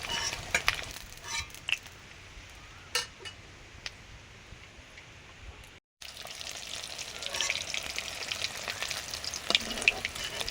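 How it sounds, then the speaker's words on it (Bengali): Chitol fish muitha dumplings frying lightly in hot oil, a steady close crackling sizzle with scattered ticks and spatters, broken by a brief silent gap before the frying resumes. "পরের বারের মুইঠাগুলো ওরকমই হালকা ভেজে তুলে নিলাম।"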